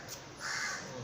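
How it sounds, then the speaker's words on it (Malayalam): A crow caws once or twice in a single short, harsh call, moderately distant and fairly faint. "കാക്കകൾ അവിടെ വന്ന് ഒച്ച ഉണ്ടാക്കുന്നുണ്ട്."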